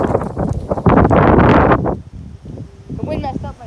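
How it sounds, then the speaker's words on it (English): Strong outdoor wind gusts hard across the microphone, a loud roaring buffet that peaks and then eases, with rustling and faint thin sounds trailing as it dies down. "The wind messed up my pitch."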